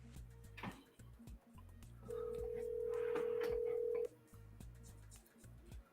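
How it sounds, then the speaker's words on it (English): A telephone dials, and a steady electronic tone holds for about two seconds over quiet background music, with short clicks before and after. "Can you hear the phone?"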